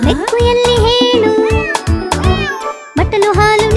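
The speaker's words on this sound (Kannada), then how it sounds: "ಬೆಕ್ಕು ಎಲ್ಲಿ ಹೇಳು," Cat meows in a Kannada children's rhyme: a rapid string of bright, up-and-down mewing calls, close and loud, set against a rhythmic musical backing with brief pauses.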